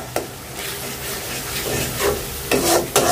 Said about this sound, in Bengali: ভালো করে কষাই নেব